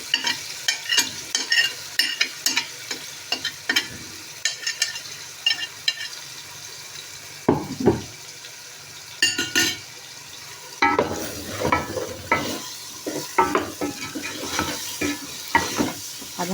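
Tomatoes with crushed chili stir-fried in a pot for a potato shorba, steady sizzling frying punctuated by repeated scraping stirs of the spoon, close and fairly loud, with brief pauses between strokes and no talking.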